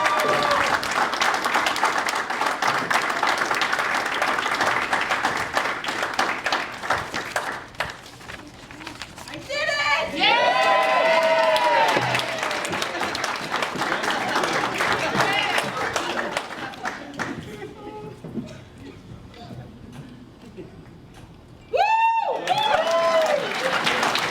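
Graduation ceremony crowd for bachelor's degree recipients, cheering and applauding loudly in a sustained roar of clapping, with a dip and then a fresh burst near the end, and a voice speaking over it.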